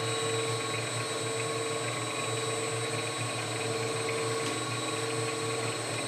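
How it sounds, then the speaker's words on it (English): Power sanding of a turned wooden vessel through a couple of sandpaper grits at a shop station with dust collection, heard as a steady, continuous whirring drone with a constant motor hum and no pauses. "And we're going to just sand with a couple of grits."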